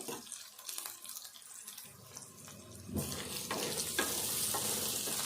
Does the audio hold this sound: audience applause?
no